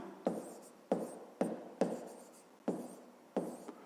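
A pen scratches across paper in short strokes, six distinct bursts at an uneven pace, close to the microphone in a quiet room, with no talking.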